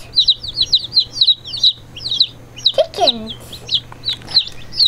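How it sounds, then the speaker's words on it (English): Young chicks and chickens clucking and cheeping in a busy run of short, high calls, close to the microphone and steady throughout, with a low steady hum beneath them. "Chickens."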